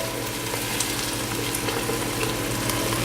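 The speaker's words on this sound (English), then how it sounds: "I'm going to dump everything in. We have our peaches, our pineapple, and now the salsa." Peaches, pineapple and salsa hit a hot pan with pork, giving a steady loud sizzle and frying crackle throughout, with faint scraping stir sounds and no talk.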